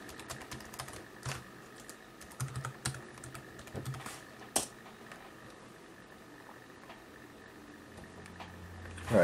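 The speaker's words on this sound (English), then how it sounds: "So I'm gonna put the password in" Someone types a Wi-Fi password on a computer keyboard during a Windows 10 preview installation, producing sparse, soft key taps with one sharper click midway, quiet and close with no talking.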